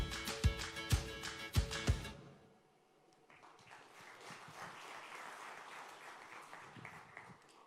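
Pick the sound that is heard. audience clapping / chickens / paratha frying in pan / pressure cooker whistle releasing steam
audience clapping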